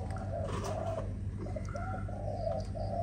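Spotted doves of a Malaysian breed coo in soft, repeated low phrases, close and steady, over a constant low hum and background noise with no talking.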